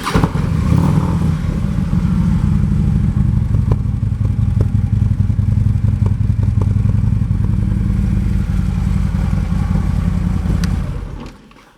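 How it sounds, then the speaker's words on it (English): A 2014 Harley-Davidson Electra Glide Ultra Limited with Screamin' Eagle pipes idles and revs close up, a loud steady V-twin rumble lasting about eleven seconds before cutting off abruptly at the end. "Harley-Davidson Screamin' Eagle pipes."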